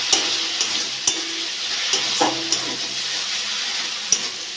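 Masala gravy for potoler teljhal being stir-fried in a pan, a constant close sizzle punctuated by regular spatula knocks and scrapes against the metal.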